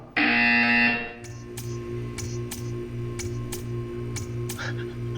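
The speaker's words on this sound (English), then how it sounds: "You will hear a buzzer." A loud electronic buzzer sounds in a Portal 2 test chamber for about a second, then gives way to a steady hum with a regular pattern of ticking clicks.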